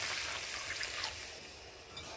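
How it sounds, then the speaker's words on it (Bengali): Water being poured into a pan of drumstick curry, a soft, steady pouring and trickling wash, fairly quiet and without voices. "এবার এখানে আমি এখন একটুখানি জল অ্যাড করব।"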